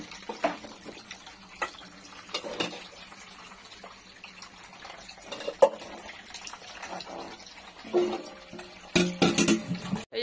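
Water runs and splashes as soaked ash gourd pieces are washed after sitting overnight in limewater, with intermittent gushes and louder bursts near the end, fairly close and without speech.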